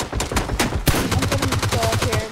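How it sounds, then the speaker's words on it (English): Rapid close gunfire erupts in a round of the video game PUBG, a loud burst of shots followed by a fast automatic string of evenly spaced reports. "they're shooting at me"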